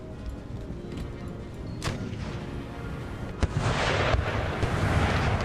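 Cannon artillery volleys in the Empire: Total War strategy game, a few sharp booming shots over a dense continuous battle din, with a heavier burst of firing near the end.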